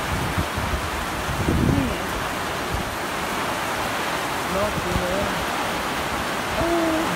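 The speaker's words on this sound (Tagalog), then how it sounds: "Ang bilis ang hangin, no?" Strong wind blows hard and steadily outdoors, a broad rushing roar that persists throughout at high level, with people talking faintly beneath it.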